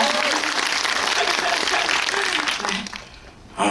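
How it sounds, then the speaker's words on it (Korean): An audience at a film screening Q&A in a cinema applauds loudly with bright, dense clapping, fading toward the end before a brief burst returns; faint voices sit under the clapping. "큰 박수 부탁드립니다"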